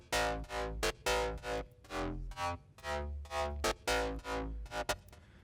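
FM synth bass from a lightly tweaked Serum preset, playing a punchy rhythmic line of short and sustained notes with gritty harmonics, loud and up front with no talking.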